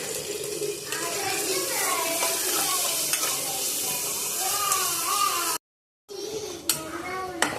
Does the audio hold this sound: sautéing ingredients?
yes